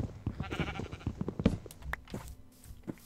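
A sheep in the Minecraft video game bleats in short game-sound calls over a busy mix of in-game effects and clicks, close and moderately loud.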